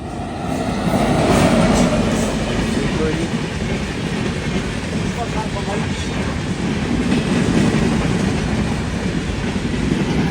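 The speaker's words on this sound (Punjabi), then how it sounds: "ਇਹ ਆ ਜੀ ਸਵਾਰੀ ਵਾਲੀ ਟ੍ਰੇਨ" A passenger train roars past close by in a loud, continuous rush with rhythmic clatter of wheels, a voice briefly audible beneath the noise.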